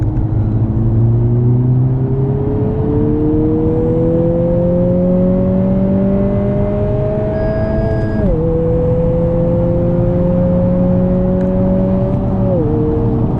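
A 2020 Honda Civic Si accelerates in third gear from about 3,000 RPM on a dry road, engine drone climbing steadily in pitch, briefly dropping at a shift near the middle, then rising again, loud and continuous from inside the car.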